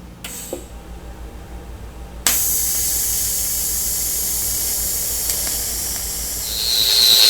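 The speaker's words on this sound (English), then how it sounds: "we're going to weld these 1/2-inch rods in here to plug the holes." Half-inch steel rods are welded into holes in square steel tubing, a loud steady hiss that starts abruptly after a quiet opening and then runs continuously, growing brighter near the end.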